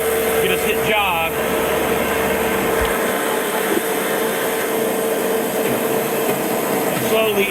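A turret lathe in a shop hums and whirs steadily as it runs, machining parts, with the drone holding at an even, fairly loud level throughout.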